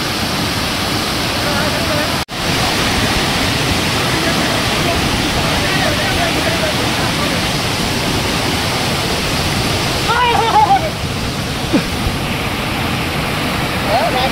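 Savdav waterfall roars as a loud, steady, broad rush of falling water close by, with faint voices briefly rising above it near the end.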